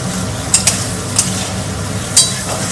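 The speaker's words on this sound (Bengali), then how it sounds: "আমার ক্যাপসিকাম আর পেঁয়াজ ভাজাটা প্রায় 2-3 মিনিট মতো ভাজা হয়ে গেছে।" Onion, capsicum and green chilli stir-frying for chilli chicken, a steady broadband sizzle with several sharp scrapes and clinks of a spatula against the pan, close and loud, no talking.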